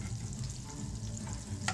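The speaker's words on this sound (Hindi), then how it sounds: "अभी गर्म हो चुका, अब हम गार्लिक डालेंगे," Garlic frying in hot refined oil for Indian-style macaroni, a dense continuous sizzle close up, with a brief scrape near the end.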